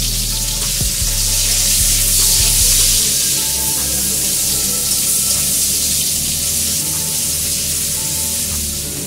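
Chopped onions fry in mustard oil, making a loud, continuous sizzle that stays close and steady throughout, with a low hum underneath for the first few seconds and no talking.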